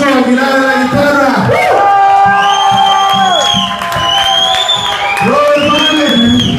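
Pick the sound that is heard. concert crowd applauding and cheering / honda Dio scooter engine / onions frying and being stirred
concert crowd applauding and cheering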